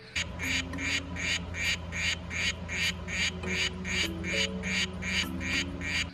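A chorus of Pamilio frogs gives rapid, evenly spaced duck-like croaks, a dozen or so in a steady pulse, over a low continuous background hum.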